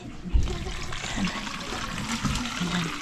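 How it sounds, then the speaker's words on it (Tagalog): Mineral drinking water poured into a container at home, a steady close splashing trickle lasting the whole stretch with a heavier gush near the start, moderately loud over a faint room background. "Lagyan muna natin doon ng tubig."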